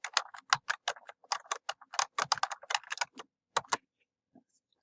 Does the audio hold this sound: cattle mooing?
no